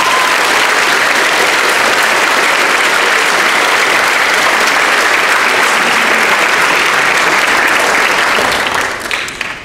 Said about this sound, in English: I just want to give everybody yet another round of applause, all the kids who played tonight.